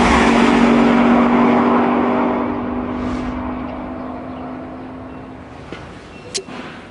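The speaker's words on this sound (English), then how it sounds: "Then you turn the key, 170 mile an hour and away you go." McLaren supercar engine roaring loudly and steadily up close, then fading into the distance with a brief high whine near the end.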